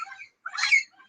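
Parrots calling in a garden, a brief scratchy squawk rising into a short harsh call, fairly faint, preceded by a softer chatter.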